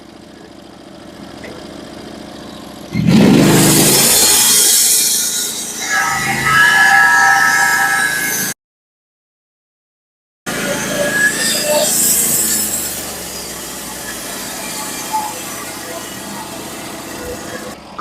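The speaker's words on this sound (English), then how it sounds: "my blade's perfectly clean cutting this sticky wood" Norwood HD36v2 sawmill blade cutting a sticky Douglas fir log, a loud rasping saw drone over a running engine, interrupted by a short silence and then resuming.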